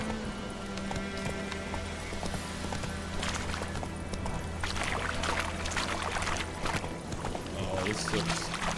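Geralt's horse Roach galloping in The Witcher 3, a steady drumming of hoofbeats running under game music and ambient sound throughout.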